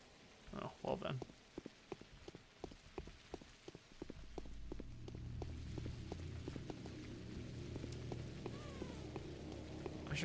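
Steady rain falls in the video game Pathologic as a soft, continuous hiss that grows fuller partway through. Sharp ticking drips and taps run over it, and a voice is heard briefly near the start.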